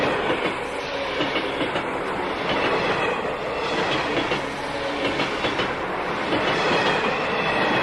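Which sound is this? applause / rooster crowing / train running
train running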